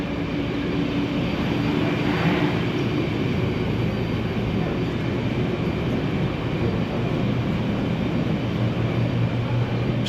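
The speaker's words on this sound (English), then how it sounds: "So I'm boarding now on the B train." Airport people-mover train at Cincinnati airport carrying passengers to the B concourse, a steady loud rumbling hum of the moving car throughout with no break.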